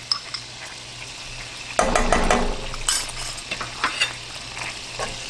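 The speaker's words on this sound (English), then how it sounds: "there's nothing that makes me happier than sauteing onions and garlic" Minced garlic and onions sauté in a pan with a steady frying sizzle, a louder burst of spatter midway, then scattered clinks of a utensil stirring against the pan; no one speaks.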